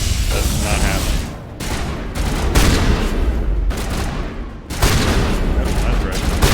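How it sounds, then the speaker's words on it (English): Shotgun blasts in a first-person shooter video game, a rapid run of loud booming shots fired in bursts with brief gaps between, dense and close throughout. "God, I love this shotgun."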